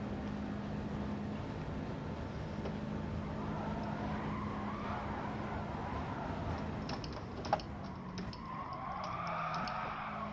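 A race car engine in Gran Turismo Sport drones steadily at high revs for the whole stretch, with a sharp click midway and the pitch dipping and shifting near the end.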